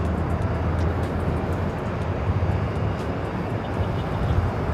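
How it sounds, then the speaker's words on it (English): A Southwest Airlines Boeing 737-700 bound for San Jose roars at LAX, a loud, steady, broadband engine rumble sustained throughout without breaks. "To San Jose, California, Southwest Airlines flight 1604. It's a 737-700."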